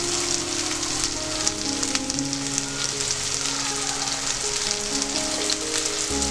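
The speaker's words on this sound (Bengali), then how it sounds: "ভালো করে কষতে হবে এটা।" Masala with tomato paste sautéing in hot oil for a prawn malai curry, a steady close sizzle and crackle of frying that runs unbroken throughout with no talk.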